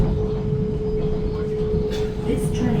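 A decommissioned, refurbished heritage train runs on Sydney's T3 Bankstown Line, heard from inside as a loud, steady low rumble with a constant tonal whine, and voices faintly present underneath.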